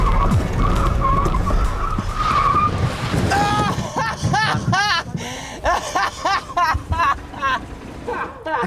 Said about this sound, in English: Lighting up the rear tyres like that and flooring the gas is getting him nowhere very fast.